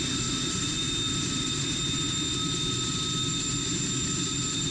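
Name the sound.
aircraft jet engine in Strike Fighters 2 video game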